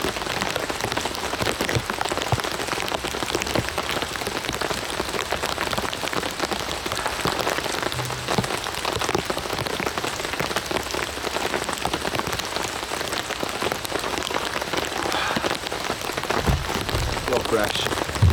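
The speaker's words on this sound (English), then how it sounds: "rain's certainly coming down hard" Heavy rain drumming on a tarp at a UK camp, a dense continuous patter of drops close overhead, steady and loud throughout with no talking.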